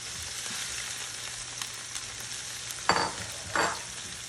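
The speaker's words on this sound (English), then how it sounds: "Onion slice. Saute that in the oil." Onion slices sauteing in oil for Lao mee ka tee, a steady broadband sizzle with a faint hum underneath and two brief louder bursts of stirring near the end, no talking.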